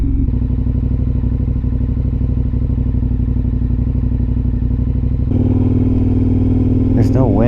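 A motorcycle engine idles loudly close by with a steady throbbing rumble that steps up slightly partway through, and a voice is heard near the end over the running engine.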